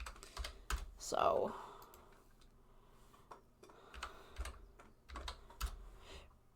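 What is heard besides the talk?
typing on a computer keyboard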